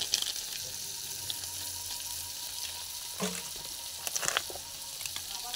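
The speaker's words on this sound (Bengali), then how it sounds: "বেশ সুন্দর হয়ে কিন্তু ভাজা হয়ে গেছে পেঁয়াজ, টমেটো, রসুন, কাঁচা লঙ্কা, কারি পাতা" Onion, tomato, garlic, green chilli and curry leaves fry in a pan with a steady soft sizzling hiss, broken by a few brief louder clatters and scrapes near the end.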